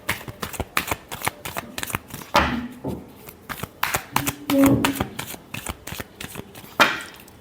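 Tarot cards shuffled by hand in a run of quick crisp riffles and soft slaps, close and clear, with a few brief pauses between bursts and no talking.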